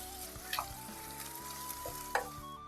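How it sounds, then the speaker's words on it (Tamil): Onions and ginger garlic paste sautéing in a pan for vada curry, a steady soft sizzle with a couple of light stirring scrapes, no voices. "வெங்காயம் நல்லா சாஃப்ட் ஆகிற வரைக்கும் வதக்கி விடலாம்."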